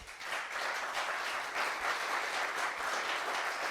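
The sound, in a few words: audience applause after fireside chat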